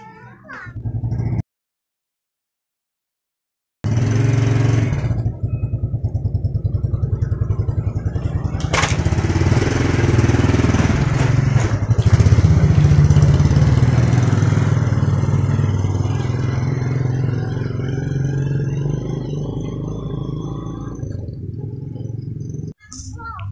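A modified motorcycle with spoked chain wheels runs steadily and loudly for a long stretch, revving slightly, then cuts off near the end.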